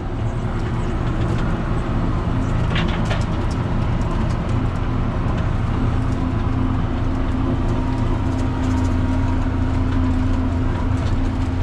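A John Deere 7600 tractor turning at the end of a field pass gives a steady, loud engine drone with a heavy low rumble that holds unchanged throughout.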